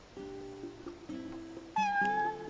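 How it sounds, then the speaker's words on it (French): A cat meows several times in Final Fantasy XV, short close mews rising into a louder, higher final cry, with no talk over them. "Oh, petit chat."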